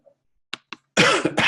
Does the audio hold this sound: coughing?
yes